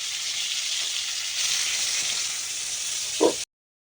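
Potatoes fry in oil in a kadai with a steady close hiss and sizzle throughout, a brief stirring clatter near the end, then an abrupt cut to silence.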